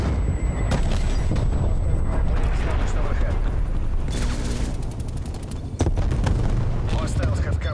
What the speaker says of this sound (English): Hostile artillery targeting action. Artillery inbound.